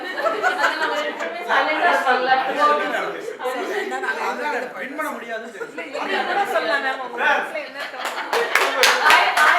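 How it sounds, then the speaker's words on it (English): An audience claps at a club gathering of presidents and past presidents, scattered clapping mixed with chatter and light laughter, building into sharper, louder claps near the end. "think you have to give him claps"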